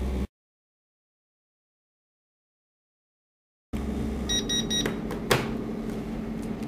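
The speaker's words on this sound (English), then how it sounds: "When you hear the beep, the process is over." A mini 3D vacuum heat transfer press gives a quick series of short electronic beeps signalling the end of the cycle, over a steady mechanical hum from its vacuum pump, following a stretch of silence.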